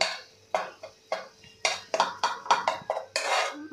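A spoon scrapes and knocks against a pan while spiced tikhat vatli dal is stirred and fried, a string of sharp, close metallic clinks and scrapes in an irregular rhythm, with no voice over them.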